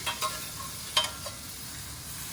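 Mushrooms sizzle in a pan on the stove while being cooked for beef stroganoff, a steady close hiss with a few soft stirring knocks and scrapes, no voices.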